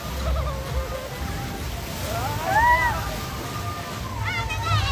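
Water crashes and sloshes over riders on a water park ride in a steady rush, with people's voices crying out over the spray.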